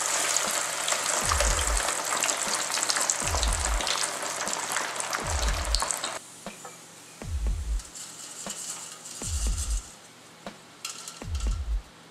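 Diced pork fries in preheated oil at about 365 degrees for street-style carnitas taquitos, a loud steady sizzle that drops to a quieter crackle halfway through, with low thumps recurring about every two seconds.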